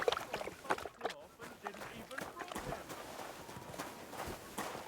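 Horse hooves clip-clop steadily on ground in the video game Kingdom Come Deliverance 2, a moderately loud, uneven rhythm of hoofbeats throughout, with ambient game sound underneath.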